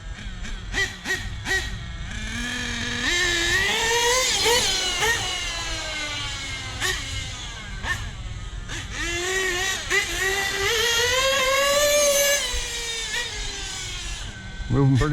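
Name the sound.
Ofna LX2 RC car nitro engine running with high idle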